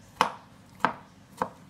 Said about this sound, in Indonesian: saya akan mencincang kasar tomat-tomat yang sudah kita rebus tadi